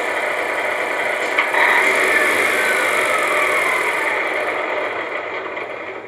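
Engine shutdown sound effect from a Tamiya RC Freightliner Cascadia truck's sound unit, a steady loud electronic diesel rumble that winds down and fades at the end, heard alone.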